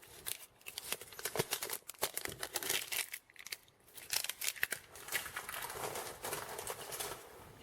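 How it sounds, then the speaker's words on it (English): Plastic wrapping pulled and crinkled off a printer ink cartridge while unpacking an HP OfficeJet Pro 8025, a close run of dry crackles and tearing rustles with short pauses between bursts. "get the plastic off."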